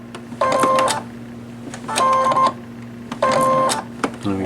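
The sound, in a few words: sewing machine stitching a buttonhole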